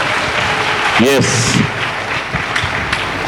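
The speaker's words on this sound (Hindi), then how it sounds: "ताली बजा के परमेश्वर का स्वागत करें" A church congregation claps to welcome God during a sermon, steady applause running beneath a man's speech.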